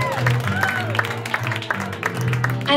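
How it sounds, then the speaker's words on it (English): Crowd applause at a live band concert show, a dense, moderately loud patter of many hands clapping continuously, with a voice speaking over it. "everyone put another round of applause up for Don"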